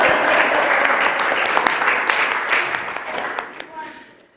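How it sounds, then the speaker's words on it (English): A congregation applauds during a Sunday church service, a full, loud burst of clapping that gradually thins and fades away. "We can applaud that."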